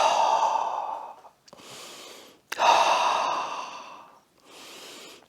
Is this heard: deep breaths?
yes